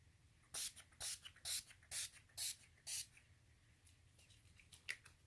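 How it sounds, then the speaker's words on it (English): Several short hissing bursts of makeup setting spray in quick succession, fairly close, followed by a few fainter, scattered spritzes. "So the only thing left is a setting spray"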